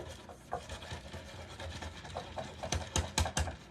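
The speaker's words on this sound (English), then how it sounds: "let's go ahead and rub this because I do want it to look really chippy." Candle wax rubbed by hand across a wooden piece to build a chippy paint finish, giving steady dry scraping strokes that grow louder and more rhythmic toward the end, close up with no talking.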